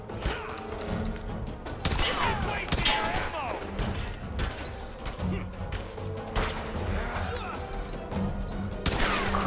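Gunfire and clanking mechanical impacts in the Tomb Raider video game, a busy stretch of sharp shots, metallic crashes and creaks with a voice talking over parts of it.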